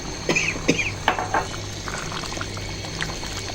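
A pot of thick meat curry bubbles and pops at a low simmer, with a few sharper pops early on, then a quiet steady burble.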